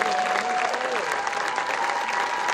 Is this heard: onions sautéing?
no